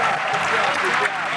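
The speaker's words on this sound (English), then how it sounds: "Give them a big round of applause, please." Studio audience applause for winning strangers, a steady wash of clapping, brief and loud, with talk mixed in.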